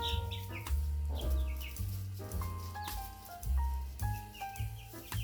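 Hens and a young rooster in a backyard coop of mixed-breed chickens cluck and squawk in short, uneven bursts, close by and fairly lively, with no voices over them.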